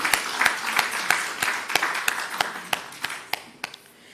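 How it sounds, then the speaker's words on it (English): Audience at the closing of a national health research conference applauding, dense steady clapping from a crowd, with a few sharper, evenly spaced claps standing out near the microphone, fading slightly at the end. "give a round of applause for what has transpired over the 3 days of the conference"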